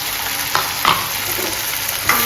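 Tomatoes hit a hot, sizzling pan for a curry. A steady close frying hiss is broken by a few sharp stirring clatters, and no one speaks.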